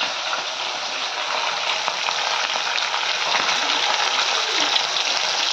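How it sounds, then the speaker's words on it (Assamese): Fish frying in hot oil in a home kitchen, a steady dense sizzle and crackle that holds at an even level throughout with no talk over it. "এয়া মাছ, এতিয়া মই মাছ ভাজিম।"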